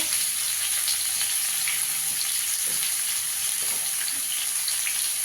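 Potatoes frying with turmeric in hot oil in a pan, a loud continuous sizzle with bright crackling hiss and occasional stirring, close up and without talk.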